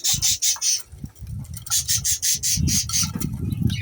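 Two cockatiels kept in a rooftop bird room give loud, rapid squawks in repeated bursts, close by, with short pauses between calls and a low rustling underneath.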